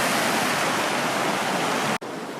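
Rushing river water at Malham, flowing out from underground, makes a loud, steady broadband roar that fills the clip, briefly cut off near the end before resuming.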